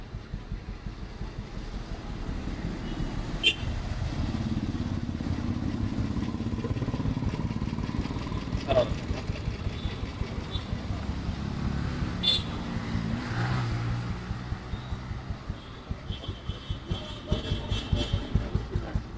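A 1964 Royal Enfield Bullet motorcycle idles close by with a steady, even thumping beat, punctuated by a few sharp clicks and with voices faintly in the background.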